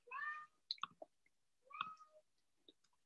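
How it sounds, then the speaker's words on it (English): A pet cat meows in the background indoors, giving two drawn-out, plaintive cries separated by small clicks and shuffling, fairly quiet and with no talking over them. "You can hear my cat in the background."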